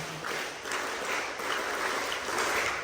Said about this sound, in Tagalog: Again, palakpak ng Boy Scout.